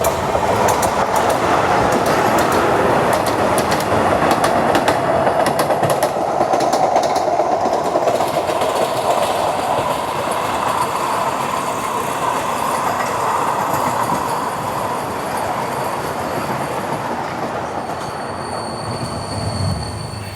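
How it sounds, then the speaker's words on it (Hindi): The Nanded–CSMT Vande Bharat Express crosses nearby with a loud, continuous rushing rumble, steady wheel clatter and squealing metal, and no voices. "Crossing Nanded CSMT Vande Bharat express."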